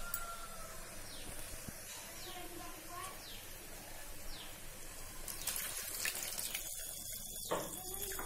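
Water poured onto rice in a home kitchen while making veg biryani, a steady rushing wash that runs for several seconds and swells louder toward the end over low background noise.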